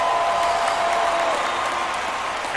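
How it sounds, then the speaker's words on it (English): A stadium crowd roars steadily after an interception at a football game, a dense, sustained wall of cheering and applause at close, loud level with no letup. "Crowd goes wild."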